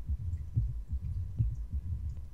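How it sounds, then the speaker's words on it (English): A low, muffled heartbeat thuds in steady rhythm inside the video game S.T.A.L.K.E.R. Shadow of Chernobyl, soft and close with repeating double beats over a faint hum, no talking. "Why do I hear a heartbeat?"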